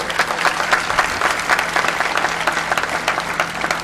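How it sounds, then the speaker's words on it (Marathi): Audience applause for Kashinath, organiser of a Jagar literary gathering, fills a hall with steady, dense clapping that holds evenly throughout without pause or voices. "काशीनाथसाठी मोठ्या टाळ्या तुम्ही द्या"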